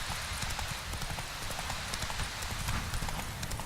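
Roach, the horse in The Witcher 3, trots with a quick, steady clip-clop of hooves. The hoofbeats are close and fairly loud over a hissy background, with no talk.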